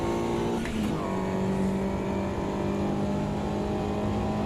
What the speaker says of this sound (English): I've deliberately locked up the tyres